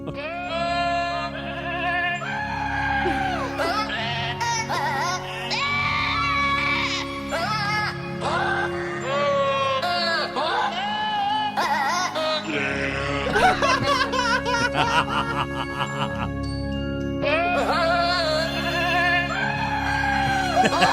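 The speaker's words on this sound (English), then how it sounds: "when you have a goat singing Oh Holy Night, the prettiest of all the carols" A goat bleats repeatedly in long wavering cries, set to the carol Oh Holy Night; the bleats are loud and close, running continuously over steady musical accompaniment.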